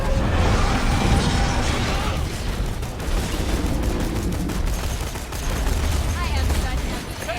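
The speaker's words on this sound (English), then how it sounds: "I'm shooting his third leg." Rapid gunfire from Borderlands 2 weapons hammering at a crystalisk's crystal-covered legs, dense and continuous with sharp cracks throughout, with people talking over it.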